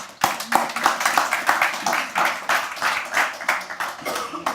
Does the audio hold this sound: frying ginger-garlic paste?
no